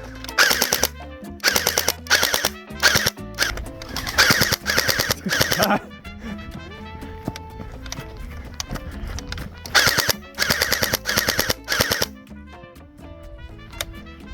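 A YAGEE DGR LEI gel blaster fires in full-auto bursts, rapid strings of close, sharp cracks separated by short pauses, with no talking.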